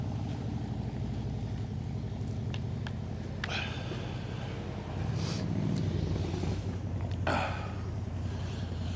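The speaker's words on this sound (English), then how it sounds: "just let this motorbike go by, it's a bit noisy" A motorbike passes on a village road at Stamford Bridge, a steady engine drone rising and fading against continuous traffic and outdoor background noise, with no talking.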